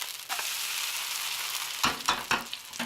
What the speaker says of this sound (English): I'm going to flip my pancake like this.